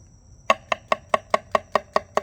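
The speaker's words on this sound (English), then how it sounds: "these are the baby bellas. I'm gonna cut these up." Knife chopping baby bella mushrooms on a cutting board: ten crisp, evenly spaced cuts in a steady rhythm, close and clear with no talking.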